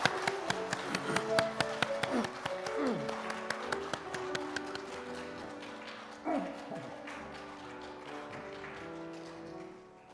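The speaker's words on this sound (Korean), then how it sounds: "하나님께 영광의 박수 올려드리겠습니다." A church congregation claps during Sunday worship, many hands beating a steady rhythmic applause over sustained organ or keyboard music, holding at a moderate level before fading out at the end.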